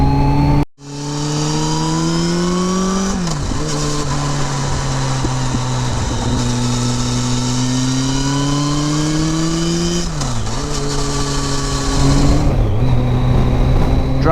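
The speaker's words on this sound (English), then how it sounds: "I am looking forward to seeing or hearing what the external exhaust mic sounds like" Kawasaki ZZR1400 motorcycle engine heard through an exhaust-mounted mic on dry roads: a loud, close, continuous exhaust roar rising through the revs, with several brief dips at gear changes before climbing again.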